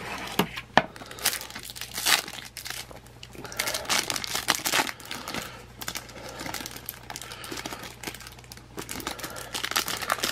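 Foil wrappers of 2011 Slam Attax Rumble wrestling trading card packs being torn open by hand, with steady close crinkling and ripping bursts lasting throughout, a faint low hum underneath and no talking.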